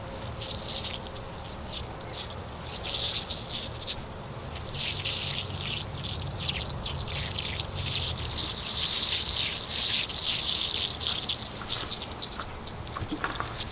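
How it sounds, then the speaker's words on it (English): Water is poured over sandy bonsai soil around a bird's nest spruce, making a steady soft trickling and splashing hiss that rises slightly midway and continues evenly, close and moderately quiet. "Now I'll give it a water to settle all the sand down."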